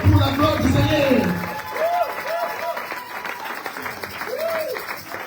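Loud applause from a large church congregation during a Sunday service fills the room, fading slightly as a voice sings or calls out over the clapping.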